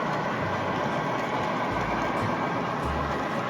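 Model train rolling along a home layout, a steady low rumble and hum of running gear with faint rail noise, continuous and fairly close, no talk.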